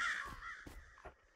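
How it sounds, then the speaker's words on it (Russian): A crow cawing in the horror game In Silence, a few harsh caws spaced apart, faint and somewhat distant, with no one talking. "Так, это ворона."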